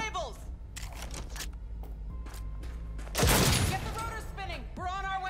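Gunfire from shooting cables in Cyberpunk 2077: a loud burst of shots near the middle, preceded and followed by game sounds, effects and voices.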